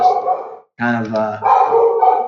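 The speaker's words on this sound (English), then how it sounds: "Sorry about the dogs in the background." Dogs barking in the background while someone speaks over them, the barks mixed in and partly masked by the ongoing talk.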